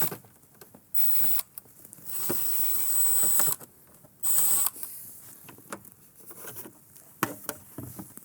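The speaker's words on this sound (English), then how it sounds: "Let's go ahead and get these 2 screws out to pull the trim off." A screwdriver works screws out of a Jeep Wrangler TJ interior trim piece, giving bursts of close whirring and clicking broken by short pauses and light handling taps.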